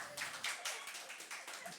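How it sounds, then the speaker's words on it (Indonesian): Faint applause from a church congregation at a worship service, a soft patter of many hands clapping steadily at a distance for a couple of seconds. "Kasih tepuk tangannya mana?"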